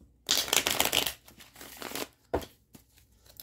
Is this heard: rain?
no